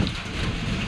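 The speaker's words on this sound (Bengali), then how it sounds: "বৃষ্টি শুরু হয়েছে," Rain begins falling under a cloudy sky, a steady, dense hiss of drops hitting surfaces close by, continuous and fairly loud with no voices.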